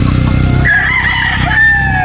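A single loud rooster crows nearby, a drawn-out cock-a-doodle-doo lasting about a second and a half.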